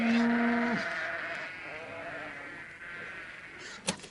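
A real farmyard recording in which sheep give a drawn-out bleat, then fainter bleats follow over a steady background hum, ending with a short sharp knock.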